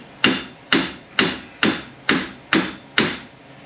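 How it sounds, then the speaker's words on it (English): A hammer taps the CV axle end through the wheel hub of a Dodge Dakota during a front wheel bearing hub replacement, seven sharp metallic strikes at an even, steady rhythm, close and clear with no talk. "We're just going to give it a couple taps."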